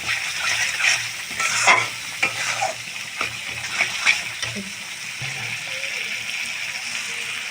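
Chickpea and potato masala fries and is stirred in a pan, with a continuous hiss and sizzle broken by soft, repeated scraping strokes, moderately quiet and close.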